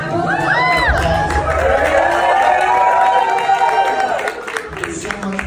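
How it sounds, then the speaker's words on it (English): An audience at a Puerto Rico arts fund event bursts into loud applause mixed with cheers, whoops and shouts, a dense crowd roar that dips slightly toward the end. "Give yourself a round of applause."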